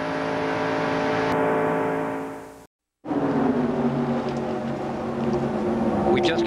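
NASCAR Winston Cup stock cars racing at Talladega Superspeedway in 1993, a loud sustained engine roar that cuts out briefly mid-way and returns as a dense, droning pack of cars.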